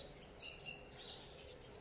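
Faint, high bird chirps repeat in short bursts over a soft, steady background hiss at a rural farmhouse.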